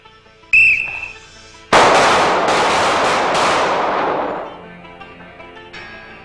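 A handgun fires duty ammunition during a 1996 low-light police qualification shoot. A whistle blast sounds first, then a loud sharp report rings out with a long ringing decay that trails off over several seconds.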